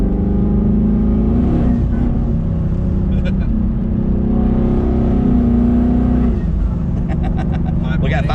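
A 2019 car with a twin-turbo Coyote engine and a 10R80 transmission accelerating, a loud, strained engine drone rising through the gears, heard from inside the cabin with voices talking over it.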